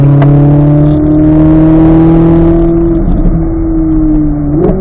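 Close-up in-car engine drone from a car on a race track, holding a steady pitch that slowly falls and then jumps briefly near the end with a gear change. No one talks over it.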